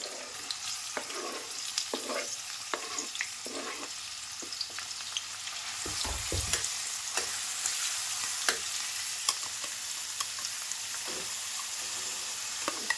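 Onions and a ground masala paste frying in hot oil, a steady close sizzle with crackling pops and occasional scraping stirs, no talking.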